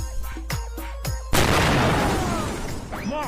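Bomb explosion sound effect: a few short thumps and pops lead into one loud sudden blast that trails off into a long rumbling, crackling decay, close and dominant, with no talking.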